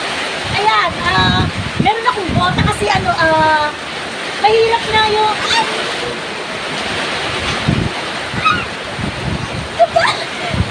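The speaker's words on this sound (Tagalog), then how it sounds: "Ang napakalakas ng ulan" Heavy rain roars steadily close by, with gusty noise, while a person talks over it.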